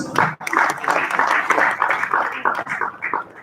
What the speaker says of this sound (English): A round of applause for Kelvin, please